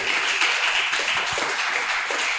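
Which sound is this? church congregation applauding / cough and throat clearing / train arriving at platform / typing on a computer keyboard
church congregation applauding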